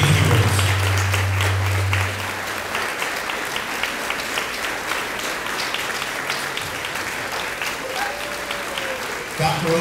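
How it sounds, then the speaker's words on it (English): Sustained applause from an audience at a school board meeting honoring custodians and transportation staff, loud and dense throughout, with a low tone and faint voices under it at the start. "a big round of applause for who we call"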